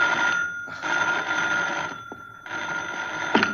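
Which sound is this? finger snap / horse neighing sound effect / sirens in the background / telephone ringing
telephone ringing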